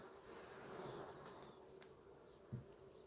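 Honey bees buzz inside the middle frames of a hive brood box, a close, continuous, faint hum with a brief bump near the end.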